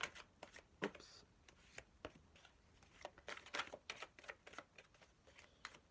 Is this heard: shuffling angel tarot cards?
yes